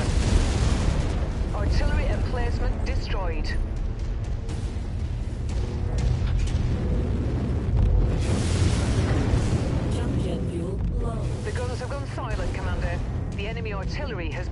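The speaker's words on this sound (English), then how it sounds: "Artillery emplacement destroyed" An artillery emplacement blows up in MechWarrior 5: Mercenaries amid loud, rolling explosions and booming gunfire in a continuous battle din, with a voice speaking over the combat.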